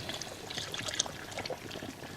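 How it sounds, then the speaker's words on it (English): Blood is poured onto pearl barley for a soup in a Prague kitchen, a faint, soft liquid trickle and splash heard alone for a couple of seconds. "Then we pour the blood onto the pearl barley"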